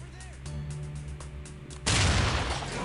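A stinger grenade detonates in SWAT 4 as a sudden loud burst of noise that swells and then slowly trails off, following a stretch of low rumbling game ambience.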